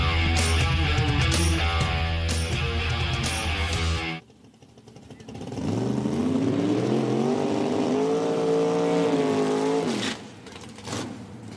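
Open-cockpit drag race cars in a Super Rod round at Virginia Motorsports Park, loud engines roaring hard for about four seconds, then a cut to a rising, revving pass with clear engine harmonics climbing in pitch before fading; no talk.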